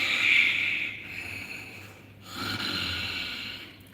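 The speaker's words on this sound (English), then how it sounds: "as you inhale, try to inhale through your throat, creating the sound of the ocean's waves" Ujjayi-style breathing drawn through the throat and nostril makes a soft, steady ocean-wave hiss, one long airy inhale that eases off midway and swells again, close and alone without any talk.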